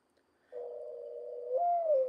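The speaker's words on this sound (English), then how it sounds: "That's the mourning dove." A single mourning dove's low coo, a long steady hollow note that lifts and slides down at the end, clear and close against silence.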